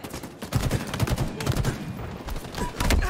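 Rapid bursts of gunfire in the shooter game Halo Infinite, loud and close with repeated staccato volleys and thumping low impacts through most of the stretch, no voices.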